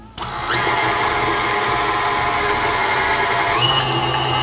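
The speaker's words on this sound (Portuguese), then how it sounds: "Vamos ligar a nossa batedeira." Electric mixer switched on to beat cake batter with egg yolks for a dried fruit cake, kicking in abruptly and holding a loud, steady whirring drone that shifts pitch slightly near the end, close with no talk.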